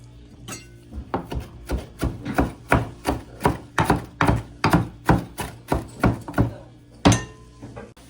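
A knife chops parsley finely on a cutting board in a quick, even run of about fifteen crisp knocks, close and clear, with a short gap before a final harder stroke.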